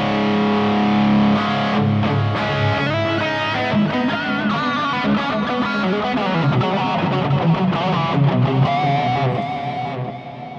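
Electric guitar played through delay and reverb effects, a sustained melodic line with overlapping echoing notes and a long washy tail, loud and upfront before fading at the end.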